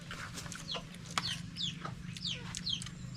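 Chickens cluck in a steady, busy chatter, with short sharp calls over a low constant hum of background noise.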